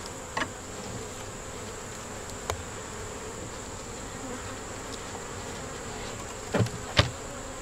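Honey bees in an open hive give a faint, steady insect hum throughout, broken by a few short clicks and knocks near and late in the stretch, with no talking.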